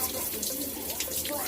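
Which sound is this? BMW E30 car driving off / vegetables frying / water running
water running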